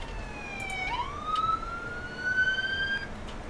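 An ambulance siren in the Emergency 4 video game wails clearly, gliding upward in pitch and then holding a high, rising tone, heard alone over a quiet background.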